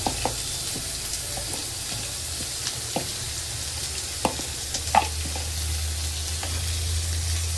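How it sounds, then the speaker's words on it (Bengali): Spice paste stir-fries in a pan, a continuous close sizzle with occasional scraping and clinks of a spatula against the pan, and no talking. "এবার এই মশলাটা দিয়ে কষাতে থাকি"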